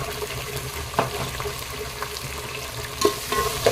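Onions sautéing with ginger garlic paste in a pan for chicken biryani: a steady sizzle with a spoon stirring and scraping now and then, close by and moderately loud.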